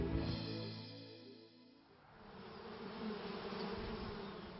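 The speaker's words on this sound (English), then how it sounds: "Bees visit flowers, and in so doing they gather the material to make honey." Bees buzz around flowers, a close, loud, continuous drone whose pitch and tone shift midway as the insects move.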